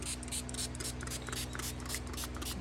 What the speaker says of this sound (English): I'm holding the bottle about 8 inches away, and I'm just giving a fine spray